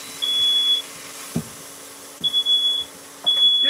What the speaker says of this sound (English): Try not to set the fire alarm off.